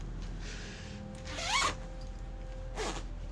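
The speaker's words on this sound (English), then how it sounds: "My zipper just came out." A Patagonia jacket zipper pulled in two quick rasping strokes, the first longer and louder, the second short, close up against a quiet room hum.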